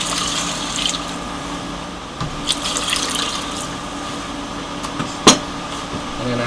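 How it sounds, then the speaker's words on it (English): Water poured into a crockpot for black-eyed peas with smoked turkey legs, a faint continuous splashing trickle with small clinks and one sharp knock near the end. "Add the water."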